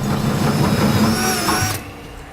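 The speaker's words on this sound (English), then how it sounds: "Next we'll take a 1-inch hole saw and drill the hole from the bottom." A 1-inch hole saw bores upward through the underside of a truck bed while fitting a Demco Autoslide fifth wheel hitch, a close, steady whirring grind that cuts off sharply near the end.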